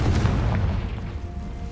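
A Confringo blasting spell explodes in the video game Hogwarts Legacy, a deep, heavy boom that rolls on as a low rumble and slowly fades, with no voices.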